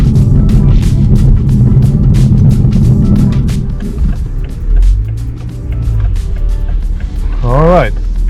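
A 2021 Toyota MK5 Supra A91 with a 7-speed automatic accelerates hard from a standstill using the paddle shifter, its engine a loud, rising roar heard from inside with a shift break partway, and voices talking over it.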